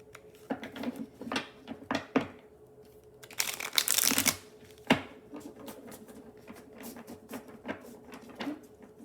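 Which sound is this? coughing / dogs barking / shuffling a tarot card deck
shuffling a tarot card deck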